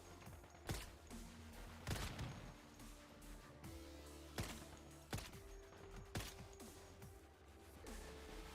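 Gunshots in the Once Human video game, several sharp sharp cracks spaced irregularly about a second apart over a low mechanical hum, fairly close and punchy.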